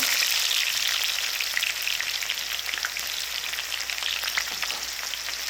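Onions and seasoning seeds fry in hot oil, a close, steady crackling sizzle with scattered pops throughout and no talk.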